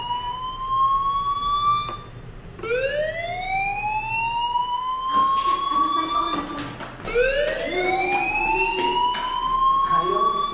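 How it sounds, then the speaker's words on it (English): Fire alarm in the video game Life Is Strange, a loud rising electronic whoop that sweeps upward again and again, with some clattering bursts partway through. "Hey, do you hear that fire alarm?"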